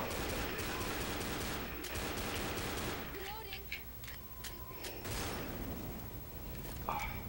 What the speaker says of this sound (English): I'm shooting at nothing.